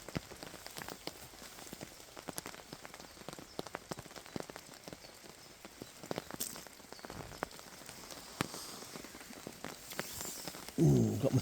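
Rain pattering steadily on a tarp over a hammock camp, with dense close drips and taps throughout and a louder rustle near the end.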